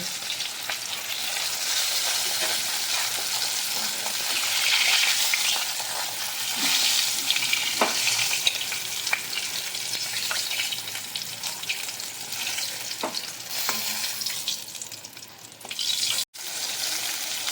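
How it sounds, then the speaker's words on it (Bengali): Steady, loud sizzling of aar fish frying in hot oil, crackling continuously with a few brief clinks and one sharp break near the end. "মাছগুলো আমি উল্টে পাল্টে ভালো করে ভেজে নিয়েছি এবার তুলে নেব"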